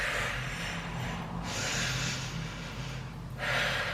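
A person breathes deeply during a Pilates workout, with steady, close, airy inhales and exhales that swell and fade in long strokes, continuous and fairly loud with no talking.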